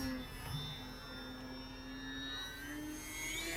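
An E-flite Sportix RC plane, a small 1.1-meter model, flies past with a thin, sustained electric motor whine whose pitch drifts slowly up and down, faint and somewhat distant throughout.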